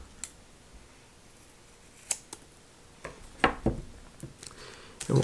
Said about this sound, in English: what you want to do is just snip on the rounded end